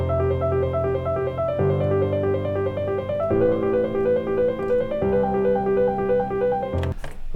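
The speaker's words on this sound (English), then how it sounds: "So this is basically the sound of the ARP." A progressive house synth arpeggio ripples in fast repeating note patterns over sustained chords that shift every couple of seconds, loud and full, ending with a brief noisy burst and no speech.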